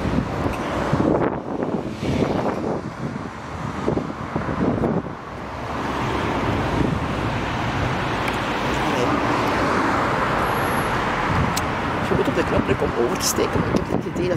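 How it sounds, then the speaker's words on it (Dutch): Cars drive past fairly fast on a road at night, giving a steady, broad roar of traffic with swells as vehicles pass. It stays loud throughout, mixed with wind buffeting on the microphone, and people can be heard talking over it. "Hier hoor je dat eigenlijk, het is de auto's, hier rijden ze wat harder."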